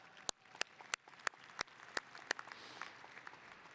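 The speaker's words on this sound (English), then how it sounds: "Give them a round of applause" Sparse, faint handclaps from a small part of a commencement audience greeting college administrators, a few distinct claps spaced apart against a quiet hall, thinning out toward the end.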